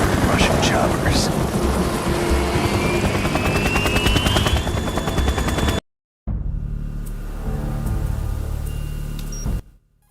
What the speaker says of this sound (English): So it is the Kasaka. Russian choppers.